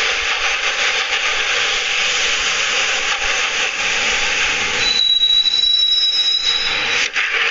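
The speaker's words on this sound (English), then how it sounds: "The train doors had already shut behind me, and I was in for the ride." A train rolls along the rails in the video game Max Payne, a steady loud rumble and hiss with a thin squealing tone rising toward the end, no voices.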